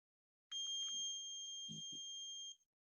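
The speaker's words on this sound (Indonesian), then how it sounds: "ada suara buzzer selama 2 detik." A robotics kit buzzer sounds a steady high electronic tone for about two seconds and then cuts off, in an otherwise quiet room with a faint murmur underneath.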